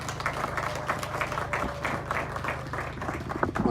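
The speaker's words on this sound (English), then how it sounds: "Another round of applause to our ward councillor" Steady applause from an audience at the reopening ceremony of Mbare Swimming Pool, a dense wash of clapping that runs throughout over a low, constant hum.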